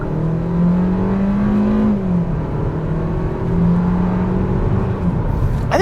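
A 2024 Kia Seltos SX Turbo accelerating hard down a highway on-ramp in traffic, engine note climbing steadily through a gear change, loud and close from inside the cabin with no talking.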